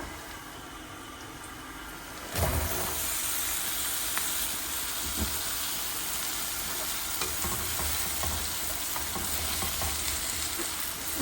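Pointed gourd (potol) hitting hot oil bursts into loud sizzling and then keeps frying with a steady hiss, broken by occasional stirring clicks from a spoon.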